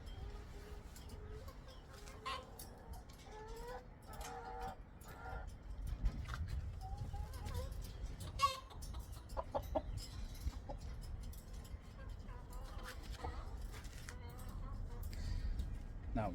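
Smooth-feathered Ayam Cemani chickens cluck and murmur quietly, with short intermittent calls over a soft rustling background, fairly close but faint.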